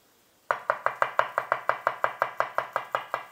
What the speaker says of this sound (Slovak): A cesnak nasekám na plátky.